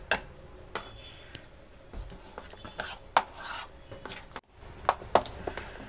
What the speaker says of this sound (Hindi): इसको और फेंट लेंगे अच्छे से।